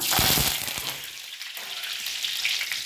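Cumin seeds and curry leaves fry in hot oil for vada pav, a bright, crackling sizzle that starts loud, eases slightly, then continues steadily close by with no talk.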